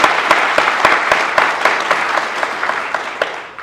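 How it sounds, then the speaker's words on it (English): An audience at an academic teaching and learning day claps for the presenters, a steady patter of many hands with a few sharper nearby claps standing out, tapering slightly toward the end. "can we please give them a round of applause?"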